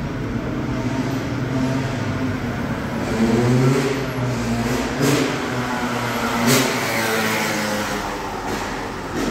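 A motorbike engine revs and rises on a city street in North Philadelphia's Kensington at night, swelling and easing over steady traffic rumble, moderately close with no talk.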